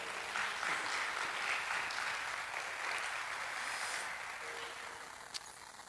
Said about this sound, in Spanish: denle un aplauso ahí al Señor, por favor.